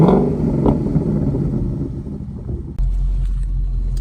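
A 2011 Ford Mustang GT with a GT500 muffler exhaust rumbles at close range, its deep exhaust note swelling slightly before settling into a steady idle.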